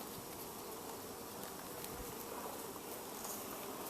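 Honey bees buzz steadily around an open hive during an inspection, a close, continuous hum with no talking.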